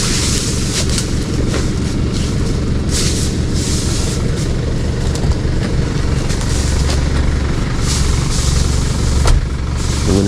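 A car engine runs on a farm among rambutan and jackfruit trees while hauling fertiliser, a loud, close, continuous rumble with a steady idling drone and a few faint clanks on top, no talking.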